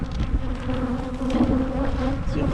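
Honey bees drone loudly and steadily at an opened hive in January, a thick, close, continuous buzz with no pauses.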